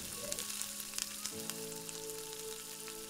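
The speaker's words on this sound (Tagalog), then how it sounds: "Hintayin uminit ang cooking oil bago isote ang luya." Ginger sautéing in hot cooking oil for Tagalog-style batchoy, a steady close sizzle and crackle with scattered pops throughout, alone with no talking.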